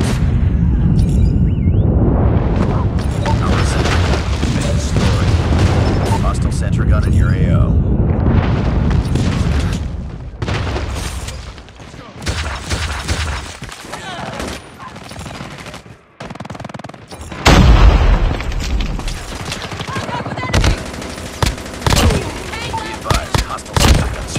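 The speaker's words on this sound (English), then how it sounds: "Enemy airstrike incoming." Heavy video game combat with rolling booms and bursts of gunfire from an enemy airstrike, loud and dense at first, then scattered blasts and shots continue at varying levels.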